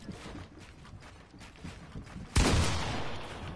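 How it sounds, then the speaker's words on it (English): A shotgun blast in a video game cuts in sharply near the end, loud and broadband, following scattered softer gunfire and movement noises. "that shotgun shot I dodged"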